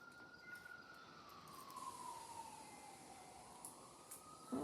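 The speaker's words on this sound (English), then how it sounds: "It's an ambulance." Ambulance siren wailing in the distance, a steady rising and falling tone held across the whole stretch over a low, even background rumble.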